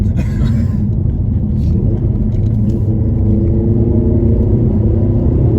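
Peugeot 308 GTI engine pulling in fourth gear, a loud continuous low rumble from inside the car with a steady drone that slowly rises, with faint talk briefly near the start.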